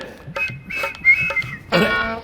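Someone whistles in the background, with short bright whistled notes and one longer sustained tone near the end, amid brief bits of other sound.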